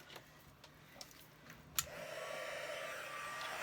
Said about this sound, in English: Alright, and then I'm going to take my heat gun.